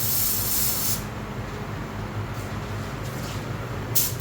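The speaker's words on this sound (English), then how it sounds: "Not primer, I'm sorry. He's spraying this sealer." A spray gun hisses continuously as a car painter sprays sealer onto a car before a snow blush paint job, a loud close broadband spray that softens slightly partway through.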